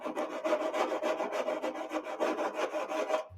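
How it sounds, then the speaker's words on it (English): Fine sandpaper rubs back and forth over cut slots in a floor pan in a fast, even rhythm of close rasping strokes that continue steadily until they stop abruptly. "Deburr the slots with fine sandpaper"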